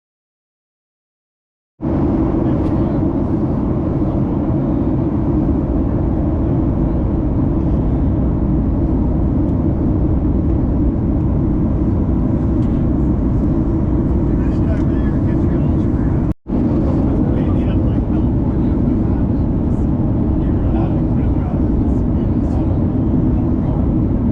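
Boeing 737-8 cabin noise during a turn in flight, a loud steady low rumbling roar that holds constant throughout, with one brief dropout near the end.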